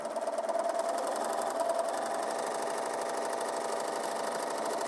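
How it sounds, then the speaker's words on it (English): A sewing machine stitches a scant quarter-inch seam through quilt fabric. Its needle chatters in a fast, even rhythm, close and steady throughout, with no voices. "I'm going to place it in my machine. And I'm going to sew a scant 1/4 inch."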